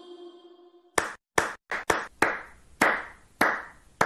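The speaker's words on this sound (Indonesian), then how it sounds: "Tadi saat kita semua bertepuk tangan, juga berbunyi" Hands clap in a series of sharp, close claps, first a few quick ones, then evenly spaced single claps with short ringing tails, after a brief steady tone.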